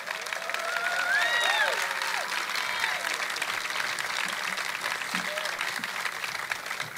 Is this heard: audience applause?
yes